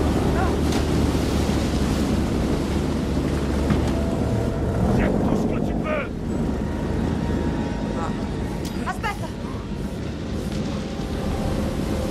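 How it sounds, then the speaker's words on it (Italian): Heavy ocean waves surge and rumble continuously in Man of Medan, a broad wash of surf and wind roaring at sea, with a voice talking briefly over the noise. "Madonna, che onde."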